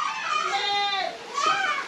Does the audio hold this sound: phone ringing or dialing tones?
no